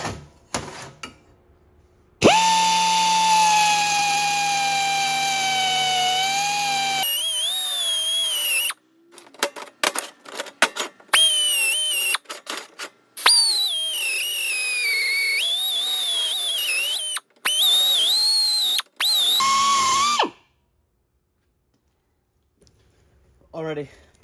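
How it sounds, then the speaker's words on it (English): A small pneumatic air grinder working metal corners while building a battery tray, a high steady whine that starts and stops in repeated bursts with brief pauses and pitch dips as it bites into the metal. "It's a little air grinder. Now I'll be able to really get into those corners and grind everything out."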